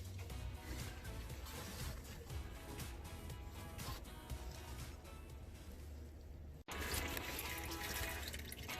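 Transmission fluid draining from a Porsche 928S, a steady trickling, dripping stream heard fairly close and alone, briefly cut off near the end before it resumes.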